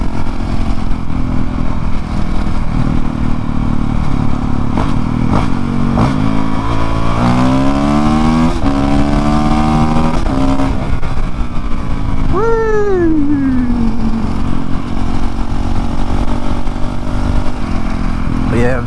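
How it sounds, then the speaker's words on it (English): A Honda CRF450L supermoto motorcycle is ridden on the road, its engine loud and close throughout with rising and falling revs through the gears, ending in a sharp rev climb. "This bike's so fun. Like the best all mess around bike."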